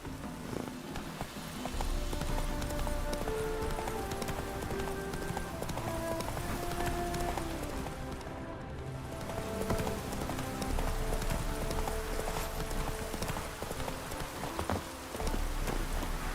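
Horse hooves galloping in the video game The Witcher 3: Wild Hunt, a continuous rapid clip-clop rhythm at moderate distance with faint background ambience.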